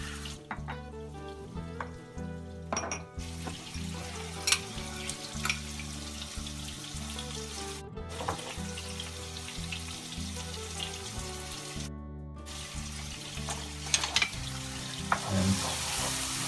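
Chicken curry with garlic sizzling and frying in a pan while a utensil stirs and scrapes in repeated strokes, with a few short gaps and a louder scrape near the end.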